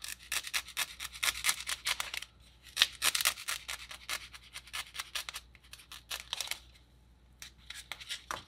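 Scissors snip and scrape through a foam pool noodle, cutting around its outer part to make a fake cake roll, in quick close bursts of crunchy cuts with brief pauses between.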